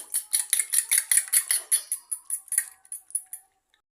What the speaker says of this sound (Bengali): দুইটা ডিম নিয়েছি সামান্য একটু লবণ দিয়ে ভালোভাবে ফেটে নেব